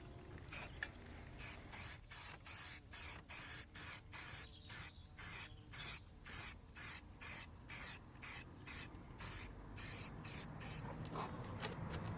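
A spray can puts a second coat of paint on the sill of a 1999–2007 Mk1 Skoda Fabia, with about twenty short hissing bursts in a steady rhythm, close and even, with brief pauses between them.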